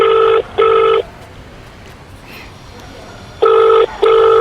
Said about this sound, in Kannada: ರಿಂಗ್ ಆಗ್ತಿದೆ ಎತ್ತಿಲ್ಲ